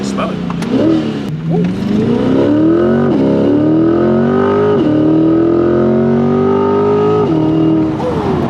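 A Harley-Davidson Road King motorcycle rides along at close range, its engine note rising and dropping as the rider shifts through the gears and revs, with a steady loud rumble throughout.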